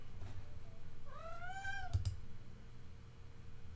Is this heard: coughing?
no